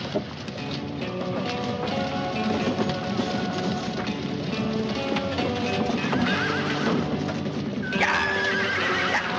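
Horses in a western film neigh and whinny repeatedly as they are driven out of a corral, with clattering hooves and a busy, dense mix of animal calls throughout.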